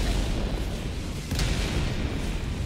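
An orbital strike explodes in the Helldivers 2 video game, a loud, continuous, booming rumble of blasts that fills the whole moment with dense low roar.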